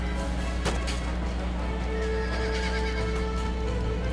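In the video game Empire: Total War, cavalry horses whinny over a dense, steady background of rumbling battle noise, with a faint clatter of hooves mixed in.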